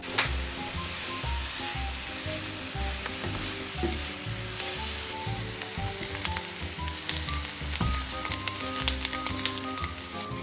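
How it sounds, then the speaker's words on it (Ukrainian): Onion frying in butter in a hot frying pan, a continuous close sizzle with crackling pops and occasional scraping from stirring, no voices. "Додаємо цибулю на розігріту з маслом пательню та підсмажуємо до золотистого кольору."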